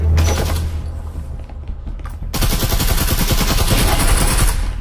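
Rapid automatic gunfire in the video game Breachers, loud and dense bursts of closely spaced shots with a brief lull in the middle before a sustained, continuous stream of fire.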